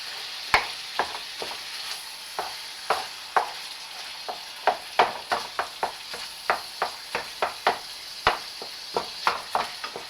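A wooden spatula stirring and chopping food in a sizzling frying pan, a steady run of sharp scraping taps over a constant hiss, close up with no talk.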